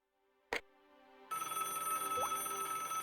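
A telephone rings in the Broken Sword: Shadow of the Templars Director's Cut adventure game, a steady electronic trill that starts after a sharp click and continues loudly with no voices over it.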